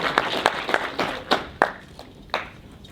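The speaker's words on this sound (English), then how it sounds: "Let's give one more round of applause for Danny." Scattered, sparse hand claps from an audience after a keynote speech, a thin round of individual claps in an uneven rhythm rather than full applause, moderately close with soft room noise between them.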